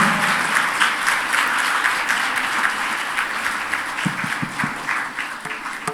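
Audience applause at a meditation gathering, dense sustained clapping from many hands filling the room at steady loudness, thinning slightly toward the end.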